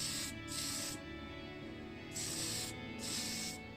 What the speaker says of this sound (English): Now I'm going to be hitting it up with some Tamiya surface primer